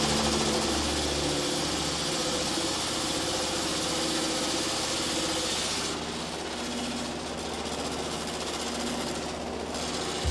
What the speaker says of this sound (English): The flour grinding process always attracts curious onlookers.